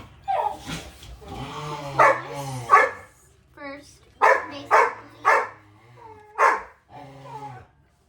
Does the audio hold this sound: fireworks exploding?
no